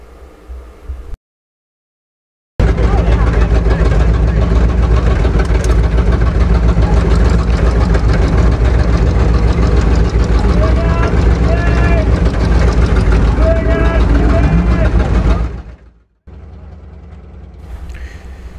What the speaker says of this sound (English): Here we are driving towards the gates of Wasteland City.